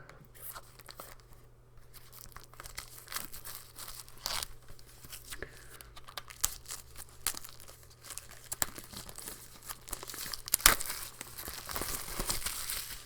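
A new Tom Waits CD, Foreign Affair, is unwrapped close up, its plastic packaging tearing and crinkling in irregular bursts over about thirteen seconds.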